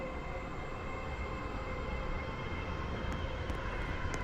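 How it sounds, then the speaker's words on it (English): A train standing at a station in the Stepford County Railway video game, a five-coach set, gives off a steady, continuous hum and rumble with a faint tonal whine running throughout and a few tiny clicks near the end. "This train is formed of 5 coaches."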